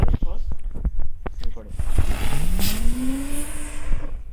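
A small tornado firework spins on its top, giving a rising whistling whine that climbs and holds for about a second amid crackle and hiss, with voices talking nearby beforehand.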